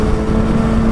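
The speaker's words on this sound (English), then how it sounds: "There's some lovely noises coming from the airbox as you start to open it up a little bit." Engine and airbox of a 2019 Kawasaki ZX-6R motorcycle under throttle, a loud, steady close drone in a very short burst.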